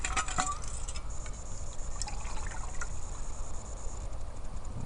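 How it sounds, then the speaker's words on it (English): Water poured into a metal canteen cup, a soft continuous trickle with a faint ringing fill tone and a few small clinks near the start, quiet and close. "Go ahead and pour off some water in here."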